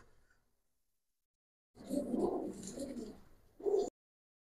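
Giribaz pigeon cooing in a burst of throaty, rolling calls lasting about two seconds, followed by a shorter coo after a brief pause, close and moderately loud.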